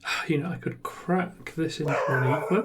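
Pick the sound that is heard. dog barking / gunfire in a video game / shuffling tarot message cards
dog barking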